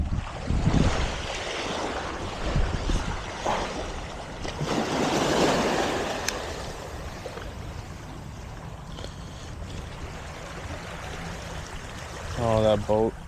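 Boat wake waves lapping against a dike, rolling water wash with gusts of wind buffeting the microphone, fairly close and continuous, with a distant boat engine faintly underneath.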